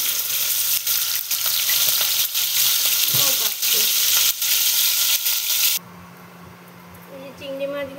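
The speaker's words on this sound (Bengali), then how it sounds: "মাখানো চিংড়ি মাছগুলো ভেজে নিই।" Prawns coated in salt and turmeric sizzle loudly in hot oil, a dense steady frying hiss that drops sharply near the end to a quieter crackle with faint clinks.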